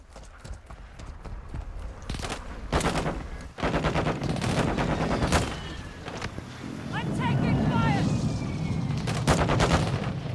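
Bursts of automatic rifle fire sound out during a Call of Duty Modern Warfare 2 DMZ match, several rapid volleys that are close and loud, joined later by rumbling explosions, with speech mixed in.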